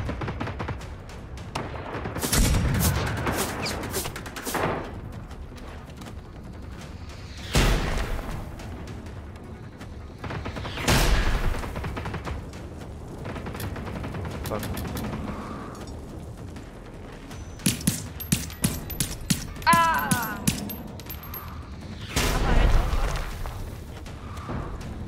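Enemy robots in Generation Zero fire repeated heavy booming shots, loud and spaced several seconds apart, with a short rapid burst near the end and a few faint in-game sounds in between.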